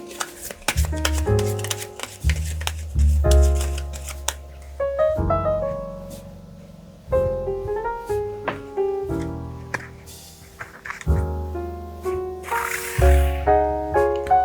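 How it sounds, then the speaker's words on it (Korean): Tarot cards are shuffled and drawn by hand, giving close, irregular bursts of papery slaps and riffles with soft tonal thuds between them, separated by short pauses. "그 사람과 관련한 카드 한 장을 뽑아보도록 하겠습니다."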